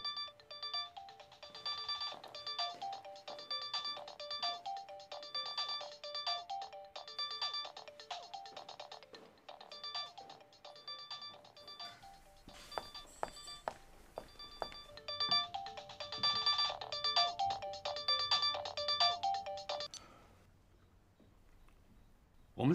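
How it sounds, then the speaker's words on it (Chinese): A telephone rings with a repeating electronic tone in a dramatic domestic scene, sounding in steady bursts for about twenty seconds before going quiet. "你怎么还给我来电话？"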